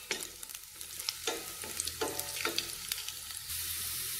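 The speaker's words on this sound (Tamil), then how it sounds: "நல்லா வதக்கி விட்டுக்கோங்க பூண்டை." Garlic sautéing in a pan for chicken fried rice, a steady close sizzle with scattered stirring scrapes and clinks, the frying hiss growing louder and more even toward the end.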